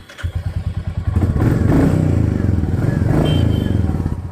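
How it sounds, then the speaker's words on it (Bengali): A Royal Enfield motorcycle fresh from its first service cranks with rapid rhythmic pulses, then catches into a loud, steady thumping idle close by. "সার্ভিসিংয়ের পর ফার্স্ট ইঞ্জিন স্টার্ট দিচ্ছি।"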